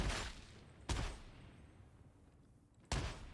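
An Ogryn's gun in Warhammer 40K: Darktide fires three separate loud, sharp booms spaced about a second or two apart, each with a short fading tail.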